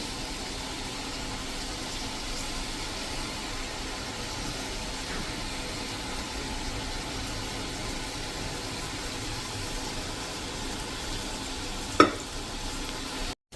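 Boondi batter trickling into hot oil in a pan for laddu, giving a steady, even frying hiss that holds throughout, with one brief sharp tap near the end.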